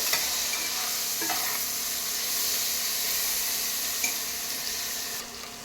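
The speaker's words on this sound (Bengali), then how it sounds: "আবার একটু হালকা করে ভেজে নেব।" Vegetables for veg chowmein lightly frying in a pan, a steady broad sizzle with a few faint stirring clicks, close and continuous with no talking.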